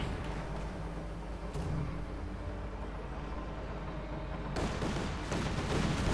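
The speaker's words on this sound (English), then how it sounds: "You got another German airstrike in." A German airstrike rumbles across a Company of Heroes 2 battlefield: a dense, steady wall of booming explosions and gunfire, with sharper blasts breaking through near the start and again toward the end.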